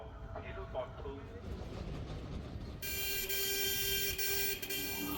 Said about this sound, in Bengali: 3 নম্বর প্ল্যাটফর্মে কিন্তু এসে দাঁড়িয়েছে বন্দে ভারত স্লিপার ট্রেন